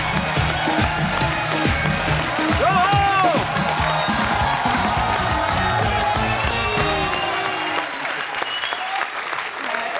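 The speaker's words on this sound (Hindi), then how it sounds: "एक बार जोरदार तालियों से स्वागत हो जाए" A television comedy show studio audience bursts into loud, sustained applause with cheering and whoops, dense clapping filling the room before easing off near the end.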